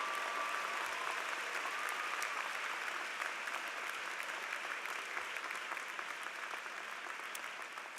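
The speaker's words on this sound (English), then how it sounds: "I want the audience to give the concept of truth a round of applause." A large audience at a spring university undergraduate commencement applauds steadily for the full stretch, a dense, even wash of clapping that fades only slightly toward the end, with no voices standing out.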